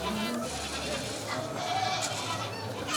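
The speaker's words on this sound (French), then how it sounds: "les chèvres sont présentes, au même titre que d'autres animaux de la ferme" Goats bleating at a farm with other farm animals around, several short wavering calls over steady outdoor background noise while a voice narrates.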